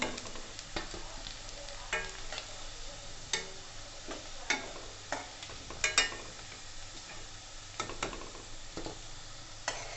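Aloo paneer koftas frying in hot oil crackle steadily, with a spoon scraping and tapping the pan at irregular intervals throughout.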